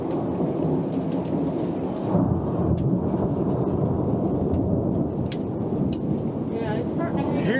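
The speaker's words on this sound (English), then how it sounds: "Hear the hail hitting." A heavy thunderstorm with hail and thunder: dense, steady pounding of rain and hail fills the whole stretch, loud and close, with a deep rumble of thunder beneath and a few sharp cracking hits.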